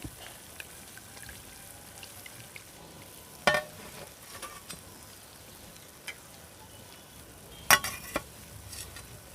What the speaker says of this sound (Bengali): বাকি প্যাটিসগুলো কিন্তু এখনও ভাজা হচ্ছে কড়াইতে